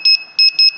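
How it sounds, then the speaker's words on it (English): An Arduino buzzer alarm on a DIY room temperature and humidity module, set off by high temperature, sounds three pairs of short, loud electronic beeps at a steady pulsing rhythm, close and alone. "we do get the alarm triggered and the buzzer also triggered"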